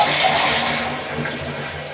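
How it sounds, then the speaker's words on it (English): A toilet flushing with the handle held down to drain the tank, a loud close rush of swirling water that slowly fades over two seconds, in a bathroom during removal. "once you cut off your water supply, you want to flush them and hold your handle"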